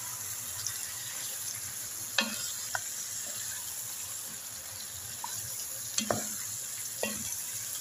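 Squid for adobong pusit sizzles steadily in a pan while a utensil stirs it, with a few sharp clinks of the spoon against the pan over the continuous frying hiss.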